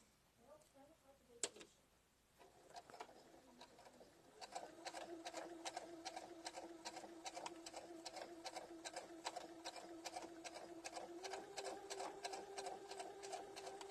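A sewing machine stitches trim onto a quilted fabric Easter basket, starting after a brief clack and then running in a steady, even rapid ticking hum that stays fairly quiet and close.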